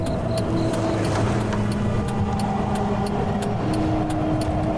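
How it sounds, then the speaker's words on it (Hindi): A car engine runs steadily with a low hum and faint ticking overtones as the car drives up to a church gate on Christmas night, holding an even, constant level throughout. "गाड़ी चर्च के गेट पर रुकती है"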